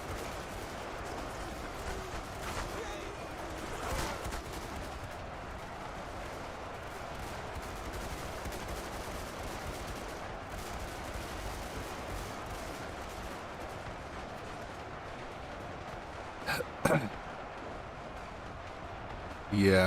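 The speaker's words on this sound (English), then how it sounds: "the firepower of them MGs" Massed machine guns fire in a large battle in Ultimate Epic Battle Simulator 2, a continuous distant crackling rattle with a few louder bangs near the end, while someone talks over it.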